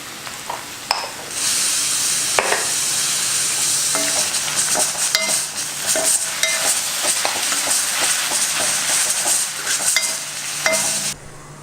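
Okra stir-fry with chili powder and salt sizzles in a pan, a steady close hiss broken by scattered clinks and scrapes of stirring, fading out abruptly at the end.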